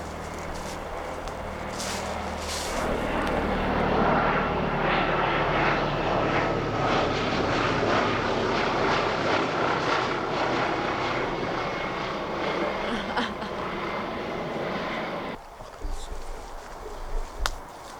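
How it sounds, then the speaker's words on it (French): A helicopter flying overhead on an outdoor film set, a loud sustained rotor and engine roar that builds and holds for over ten seconds before cutting off, with some faint voices nearby. "Non, il y a l'hélico."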